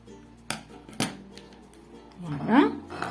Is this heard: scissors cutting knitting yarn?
yes